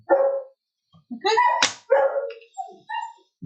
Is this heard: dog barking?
yes